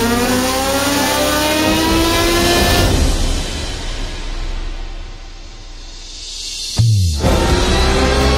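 Honda CBR 1000RR sportbike engine revving hard, climbing in pitch for a few seconds, then easing off before a sudden sharp burst and renewed roar near the end, loud and close with no talking.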